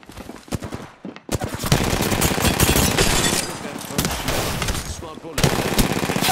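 Rapid automatic gunfire in the video game Apex Legends, dense and loud bursts filling most of the stretch, with a voice speaking briefly early on.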